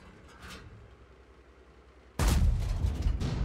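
A tank cannon fires in the video game World of Tanks: after a quiet, rumbling stretch, one loud, sudden boom erupts, followed by a sustained heavy roar and rumble that carries to the end.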